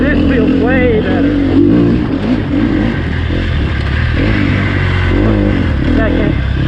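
A Sherco SEF300 dirt bike ridden at Crow Canyon buzzes loudly and steadily, its engine note rising and falling with throttle, while a rider's voice talks over it at times.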